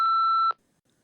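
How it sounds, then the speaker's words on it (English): A single answering-machine voicemail beep, a steady electronic tone lasting about half a second, loud and close, then near silence. "Please, Mary, if you're there, just pick up the phone."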